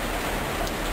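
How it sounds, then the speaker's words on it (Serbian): Dense steady rain falls in a Serbian film scene, a loud continuous hiss filling the whole moment with no talk. "Opet ta kiša."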